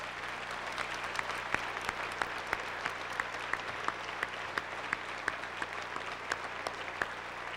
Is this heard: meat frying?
no